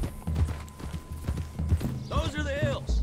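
Horse hooves clip-clop steadily in the video game Red Dead Redemption 2, moderately close, under someone talking over game dialogue and music.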